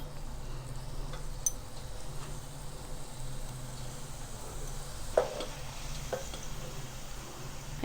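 Small pieces of murukku dough frying in hot oil, a continuous dense sizzle and crackle at an even level throughout, with a couple of brief sharper pops and no voices.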